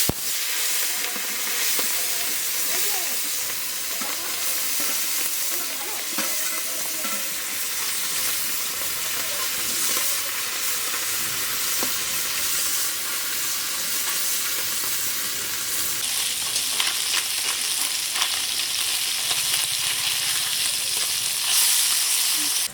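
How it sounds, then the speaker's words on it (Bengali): Small puti fish frying in hot oil in a kadai, a steady dense sizzle and hiss that holds throughout at even loudness, with faint stirring and spatter. "তেল গরম হয়ে গেছে, এখন আমি পুঁটি মাছগুলো দিয়ে দেবো।"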